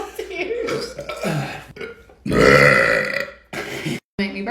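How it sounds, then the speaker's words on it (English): A loud, long burp after chugging Sprite rumbles for about a second, set among a voice talking before and after it. "Make me burp that much."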